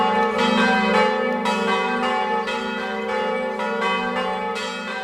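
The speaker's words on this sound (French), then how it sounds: "Elle sonne à toute volée, les cloches de Saint-Pierre." Church bells of Saint Peter's pealing at full swing, overlapping rich metallic strikes that repeat in a steady rhythm and ring on loud and resonant with no voices.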